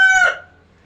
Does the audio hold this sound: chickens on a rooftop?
yes